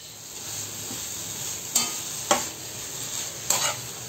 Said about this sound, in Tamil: துருவன மாங்காவை போட்டு ஈவனாக வந்து மிக்ஸ் பண்ணிக்கலாம்